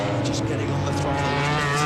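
A MotoGP racing motorcycle at full throttle, its engine a dense, sustained high-revving scream heard from trackside, steady and loud throughout with a race commentator talking over it.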